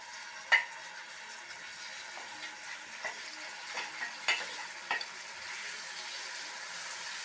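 Pieces of taro root fry in hot oil with a soft, constant sizzle, broken by a few sharp clinks and scrapes of stirring utensils against the pan; quiet and close, no one speaking.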